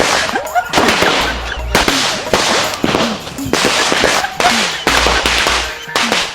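Rapid bursts of firecrackers popping at a Sivakasi firecracker shop, in quick irregular volleys, loud and close, with brief pauses between strings of sharp cracks.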